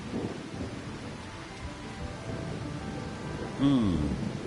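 Steady rain and thunder rumble through a video game scene at night, a continuous wash of rainfall with low rolling thunder, and a voice briefly exclaims near the end.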